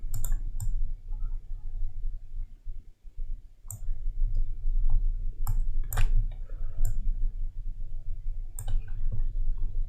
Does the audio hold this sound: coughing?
no